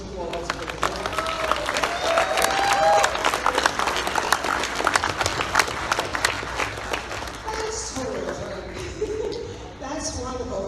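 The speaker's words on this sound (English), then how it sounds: "let's have a big round of applause for John" An audience at the Hamvention 2019 Youth Forum claps steadily for several seconds, a dense, even patter of many hands. Voices join in and talk over it as the clapping thins toward the end.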